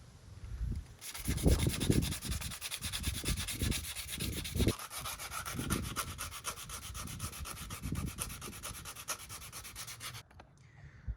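Steady abrasive sanding on the rusty metal of a Chevrolet C10 truck rubs on, a continuous gritty scrape with rhythmic strokes, fairly close and moderately loud, stopping near the end.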